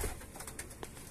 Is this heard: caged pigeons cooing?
yes